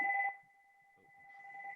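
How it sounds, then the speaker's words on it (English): A telephone rings with a steady electronic two-tone warble, faint and with no voices, fading briefly before the ring swells again. "Sorry about that phone."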